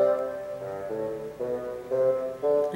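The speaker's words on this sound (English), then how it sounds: "The next instrument down, just like in the orchestral score, is bassoon." A bassoon part from an orchestral accompaniment track plays a sustained reedy melody in a low-middle register, moving through several held notes with swelling dynamics.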